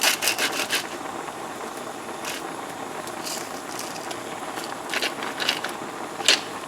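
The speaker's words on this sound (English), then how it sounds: "Then I'm gonna add in about 4 grinds of salt." A salt grinder grinds salt close by in short, faint, crackly bursts, several clustered at the start and a few scattered later, over quiet kitchen background.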